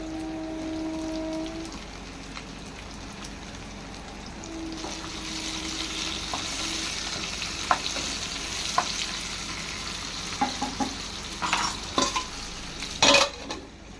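Brinjal and tomato curry sizzling in a pan, a steady hiss of frying at first, then a louder crackle with scattered stirring scrapes and pops, ending with a burst of sharp clatter, no voices.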